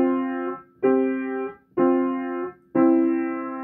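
Two measures of keyboard music played with both hands, four sustained harmonic chords or notes in a steady phrase with brief gaps between, clear and close with no talking.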